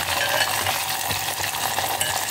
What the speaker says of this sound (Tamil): சின்ன வெங்காயம் போடுறேன். இது நல்லா வதங்கணும்.